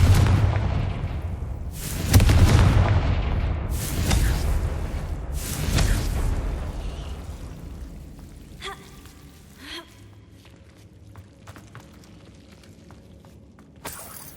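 In Hogwarts Legacy, the Confringo spell fires several booming blasts spaced a few seconds apart, loud and close at first. The blasts fade into quieter crackles and faint debris sounds.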